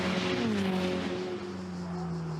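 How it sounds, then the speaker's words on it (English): Loud Ferrari Challenge race cars roar past close by at the Imola circuit, a sustained high whine that slides down in pitch as the cars go by, with no voices. "Cars sound glorious as they pass our commentary position here in Imola"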